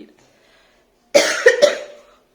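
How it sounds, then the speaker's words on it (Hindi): A single short bout of coughing, two or three harsh close coughs in quick succession after a moment of near silence. "पता नहीं क्यों मुझे खांसी हो रहा है,"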